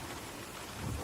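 Steady rain falls with a low rumble of thunder swelling near the end, a dense continuous wash of sound with no voices.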